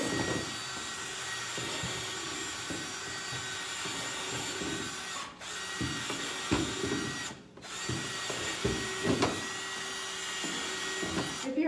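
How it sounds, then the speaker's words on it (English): A power drill whines loudly and steadily as it drills holes, its pitch dipping briefly a couple of times as it bites into the material, with faint knocks underneath. "So I'm going to drill maybe 7 or 8 holes."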